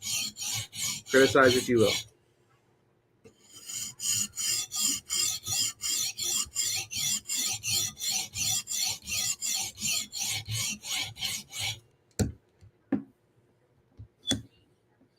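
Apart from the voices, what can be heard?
sharpening a knife on a stone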